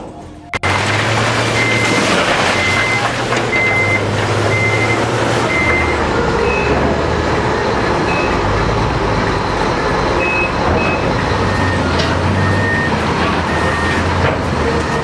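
Articulated dump truck idling and rumbling up close with a loud, steady engine drone, while a reversing alarm beeps repeatedly in regular pulses throughout, with a few gaps.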